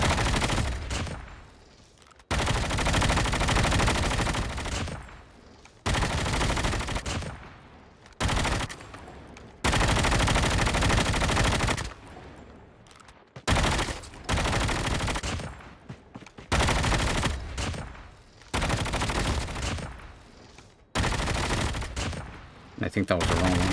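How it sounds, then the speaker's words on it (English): Gunfire in the mobile game Call of Duty Mobile during a battle royale match, with loud bursts of automatic fire in long stretches separated by brief gaps, dense and close. "Oh man, I gotta shoot him again."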